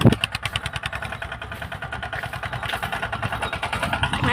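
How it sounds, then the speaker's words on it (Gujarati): A farm tractor engine approaches with a steady, rapid chugging throb that stays loud and continuous throughout. "આપણું ટ્રેક્ટર આવી રહ્યું છે"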